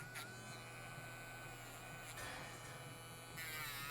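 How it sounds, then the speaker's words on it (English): A Dremel rotary tool on its low setting smoothing a dog's toenails, a faint steady high buzz with brief louder touches as the bit meets the nail. "we're just gonna Dremel just a little bit just to smooth that out."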